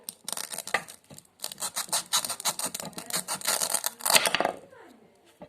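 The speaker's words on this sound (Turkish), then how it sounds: "İlk önce bıçağımızla şunu çekeyim." A toy knife saws through play vegetables such as corn, onion and broccoli in a children's pretend-cooking set, making rapid scraping, rasping strokes in uneven bursts with a few brief pauses.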